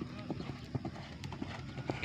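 Racehorse hooves clip-clop at a Gayo traditional horse race training session, irregular clopping beats at moderate distance, faint overall, with people talking over the hoofbeats.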